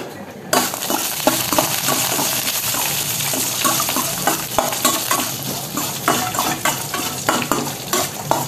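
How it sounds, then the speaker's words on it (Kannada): Dry fruits sizzle steadily as they fry in a spoonful of ghee in a pan, with a spoon stirring and scraping through them in repeated strokes, close and continuous with no talking. "ಇದ್ರೊಳಗೆ ಇವನ್ನೆಲ್ಲ ಹುರ್ಕೋಬೇಕು, ಡ್ರೈ ಫ್ರೂಟ್ಸನ್ನು"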